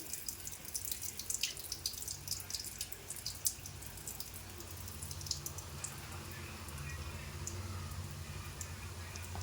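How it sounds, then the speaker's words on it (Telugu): Water pours and trickles steadily into a sink as it is drained from soaked rice, with small splashes and drips throughout, fairly quiet and continuous. "ఈ రైస్లోని వాటర్ అంతా తీసేసి"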